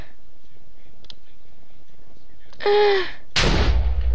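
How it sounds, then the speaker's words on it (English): A firework in the Minecraft video game whooshes up with a short tonal whistle, then bursts in a sharp, loud explosion with a crackling tail, following a faint click, and no one speaks. "You know what this calls for? Fireworks."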